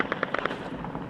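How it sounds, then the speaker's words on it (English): A Syrian conflict recording carries a rapid burst of gunfire: about six to eight sharp, close cracks in the first half-second, fading into duller scattered pops against background noise. "Look at all that gunfire that's going around."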